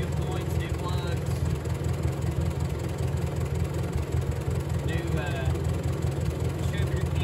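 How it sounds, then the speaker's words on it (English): A small farm tractor engine, freshly tuned with new points, plugs, distributor cap and rotor, idles smoothly with an even low chug as someone talks over it. "whenever they're tuned up right, they run really, really smooth"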